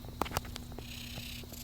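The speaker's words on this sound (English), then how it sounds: "How's that for a one-eyed cat?" A one-eyed cat purrs softly and steadily up close, a low continuous rumble with a couple of brief louder touches near the start.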